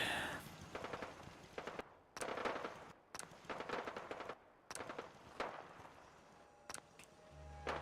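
Gunfire from a random encounter fight in Fallout 4, irregular bursts of shots at moderate distance, separated by short quiet gaps.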